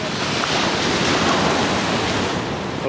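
Ocean surf roars continuously, a loud, steady wash of breaking waves with heavy wind buffeting the microphone throughout.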